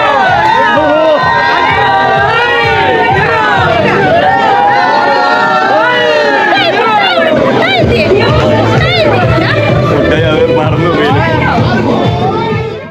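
A large, close crowd of adults and children cheers, whoops and shouts to welcome Maveli at an Onam celebration in the UAE, a loud continuous roar of excited voices with shrill calls throughout.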